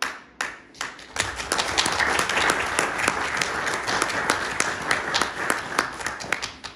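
A crowd applauding steadily at a council session in Leskovac, Serbia, dense overlapping hand claps at a consistent level throughout after a brief softer start.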